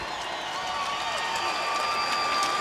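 Arena crowd at a heavyweight MMA fight applauding and cheering steadily, a dense wash of claps and shouts that holds even and fairly distant throughout, with no speech over it.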